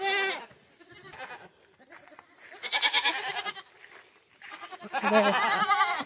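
Several goats bleat loudly and repeatedly up close on weigh day, their cries overlapping in uneven bursts with short pauses between.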